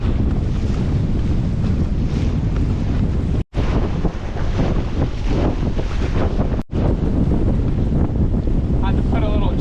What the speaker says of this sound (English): wind against current and it's pretty lumpy, but really not that bad or uncomfortable. We're just charging through it